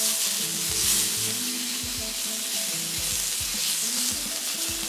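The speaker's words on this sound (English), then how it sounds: "Give these sausages time to brown up real good." Italian sausages sizzle and crackle on a grill burner turned down low. The frying hiss is steady and close, with soft scraping and stirring noises underneath.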